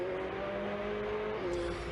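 A Ferrari Challenge race car at Circuit de Barcelona-Catalunya holds a steady high engine whine that drops in pitch near the end as it shifts up a gear, heard from a distance over broad track noise.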